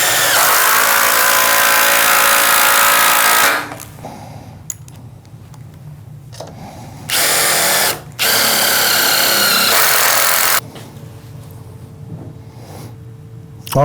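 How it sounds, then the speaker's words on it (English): Cordless impact driver driving screws into tough kiln-dried mahogany, loud and close, in long whirring bursts separated by short pauses, with the final bursts clipped and rattling. "I love the way the impact driver makes quick work of it."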